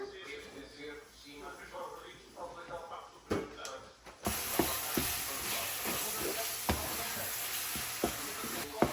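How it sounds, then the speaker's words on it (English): Meat simmering in a pan while dinner is cooked at home gives a steady, close sizzling hiss, growing louder after the first few seconds, with occasional clicks and clatter from stirring. "There's still some pink in it, so I'm just gonna let it simmer"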